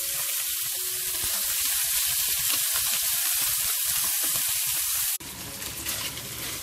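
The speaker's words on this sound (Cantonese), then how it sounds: "煎到金黃反轉" Pork ribs fry until golden in a pan, a steady close sizzle with crackling bursts. It cuts off abruptly near the end and a rushing, water-like hiss takes over.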